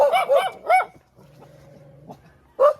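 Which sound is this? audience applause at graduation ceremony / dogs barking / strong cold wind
dogs barking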